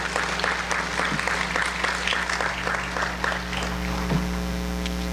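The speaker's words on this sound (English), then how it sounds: "Let's give these guys a round of applause." Steady applause from a crowd at a senior awards ceremony, many hands clapping continuously for several seconds over a low electrical hum in a large room.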